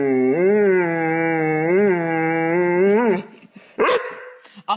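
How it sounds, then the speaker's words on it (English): A pet dog makes a long, drawn-out howling bark with a rising and falling pitch, close and loud, ending in a few shorter yips. "Don't bark at me."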